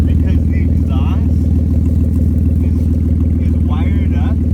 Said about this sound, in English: So you can hear the car from right now.